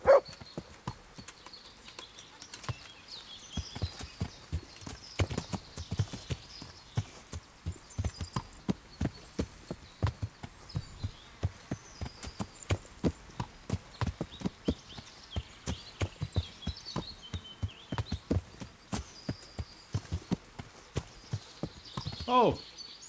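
Horse hooves clip-clop steadily in Kingdom Come: Deliverance, a continuous rhythmic trot close by, with occasional talk over the top.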